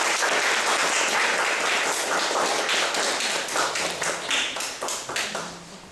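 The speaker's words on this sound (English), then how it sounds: "Let's welcome her with a big round of applause." An audience at a talk on drawing classes claps steadily to welcome a speaker, a dense wash of applause that thins into scattered individual claps and fades toward the end.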